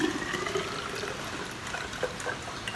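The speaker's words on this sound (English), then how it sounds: "And then I pour the water in here." Water is poured through a funnel into a rain gauge tube, a soft, steady trickle and splash that stays faint and continuous for a few seconds, with no speech.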